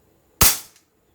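Gas blowback airsoft pistol, a Hi-Capa 5.1 GBB, firing one sharp, loud, close shot with a quick hiss of decay and a faint click of the slide cycling.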